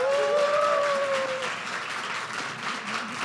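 An audience at a talk applauds in welcome, producing a dense, loud wash of clapping at the start that gradually thins and softens; a brief tonal squeal briefly rises above the clapping early on.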